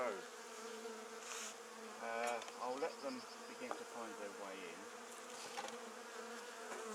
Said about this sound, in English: frames from here to here were absolutely stuffed with bees at the top here